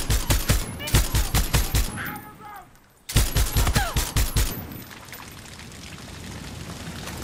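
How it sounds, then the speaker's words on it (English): Machine gun fire in Far Cry 6 crackles up close in two rapid bursts separated by a short lull, followed by a lingering rush of noise. A voice is heard during the bursts. "Hostile machine gun!"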